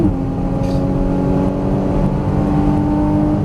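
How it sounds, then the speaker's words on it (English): Porsche Cayman GTS engine pulling hard on a racetrack at Exotics Racing Las Vegas, a loud steady drone climbing in pitch under acceleration with a brief break as it upshifts. "Squeeze throttle. Start unwinding. Upshift."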